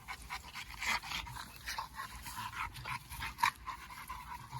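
Cane Corso dogs pant rapidly and steadily close by just after eating, with occasional small whimpers and yips, no talking.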